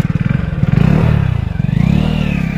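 A motorcycle engine idles close by in a loud, pulsing low throb while the bike is turned around, its rhythm rising and falling with a brief rev partway through.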